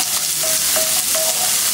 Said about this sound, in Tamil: நல்லா வெங்காயத்தை வதக்கிக்கணும்.